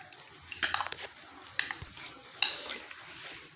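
Chicken pieces being stirred into a thick, creamy marinade, giving soft wet squelching and scraping bursts near 0.6, 1.6 and 2.4 seconds, close and fairly quiet, with no one talking.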